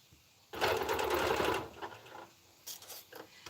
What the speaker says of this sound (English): So this machine I'm using here, this Bernina Q20, is in the studio